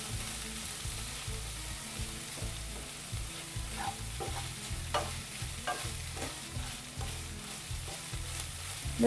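Crumbled paneer is stir-fried in a pan for a spinach thoran. A steady sizzle runs under repeated spatula scrapes and stirring clatter, close and continuous, with no talking.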